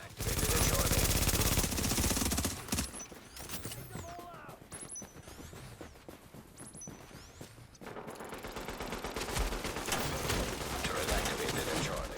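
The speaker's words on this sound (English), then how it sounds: "The turret has been activated at Charlie." A deployed turret in The Division opens fire in sustained automatic bursts, loud dense gunfire that drops into quieter mechanical clatter and scattered shots midway before heavy firing resumes, with game sound effects layered over it.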